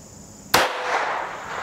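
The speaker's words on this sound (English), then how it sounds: "There it was. All right, there's five shots." A single sharp gunshot from a North American Arms 22S mini revolver cracks out close and loud, followed by a short fading tail of echo.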